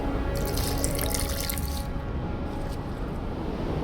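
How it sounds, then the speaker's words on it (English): Water poured during alchemy in The Witcher 2, a bright splashing, trickling pour that runs for about two seconds and then fades into a duller watery wash, with no talking. "A bit of water."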